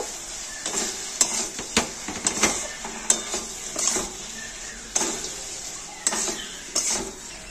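Fried soya pakoras and chopped coriander get stir-fried in a pan, with a soft sizzle beneath repeated clinks and scrapes of a spoon against metal, spaced in a loose rhythm.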